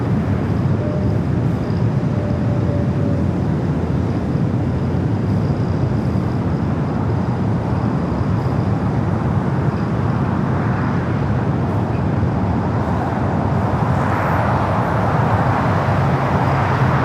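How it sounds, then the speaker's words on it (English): A British Airways airliner taxis at LAX toward runway 25 Right for takeoff, giving a steady, distant jet-engine roar that holds at an even level throughout with no talk. "Speedbird now starting his taxi"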